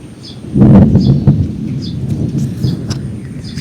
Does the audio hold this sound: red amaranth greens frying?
no